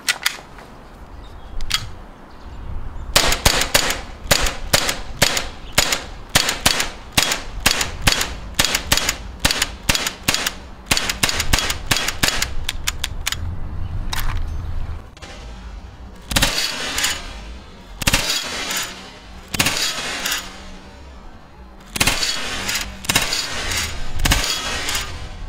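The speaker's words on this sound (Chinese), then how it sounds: "现在拿出我们的冲锋枪哦 ，MP9 哦" MP9 submachine gun firing on a range, rapid loud cracks in fast strings and bursts with short gaps between them, close and sharp.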